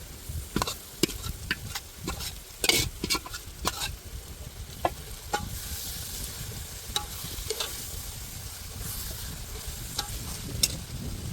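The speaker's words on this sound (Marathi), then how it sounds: "आता यामध्ये फणसाचे गरे घालून शिजवून घ्यायचं आहे" Raw jackfruit pieces cook with onions in a pan for biryani, with a constant sizzle under frequent scraping and clattering of a spoon stirring, close up and busy throughout, no talking.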